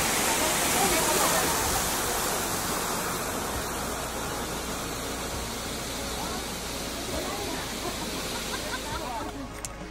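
Kegeti Gorge waterfall in Kyrgyzstan roars as a dense, steady, close wash of falling water across the whole stretch, with faint voices beneath it.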